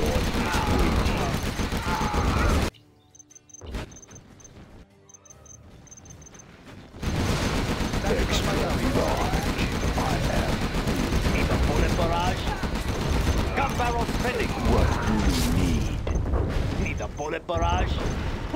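Heavy gunfire barrage in a Command & Conquer: Generals battle between Chinese and US forces, loud dense bursts filling most of the stretch, broken by a brief quieter lull, with game voices heard over it.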